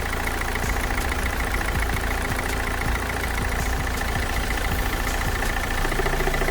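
A 2009 Opel Zafira B with a 1.7 CDTI diesel engine idles steadily, a close, even diesel rumble with a faint rhythmic clatter and no voices.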